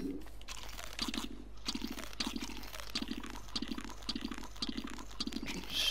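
A character munching food in Don't Starve Together, repeated short crunchy chewing bursts in a steady rhythm over a watery background ambience, fairly quiet, no speech.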